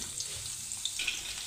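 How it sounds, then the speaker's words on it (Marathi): Four crushed garlic cloves sizzle in hot oil for a tempering before fish curry, a faint, steady high hiss sprinkled with small crackles and pops, with no voices. "आता तेल गरम झालेलं आहे, त्याच्यामध्ये मी या 4 लसणीच्या पाकळ्या ठेचून घेतलेल्या आहेत त्या टाकणार आहे फोडणीसाठी।"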